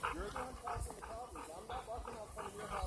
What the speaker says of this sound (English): There's a loose dog here.